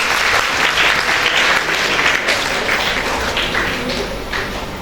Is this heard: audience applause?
yes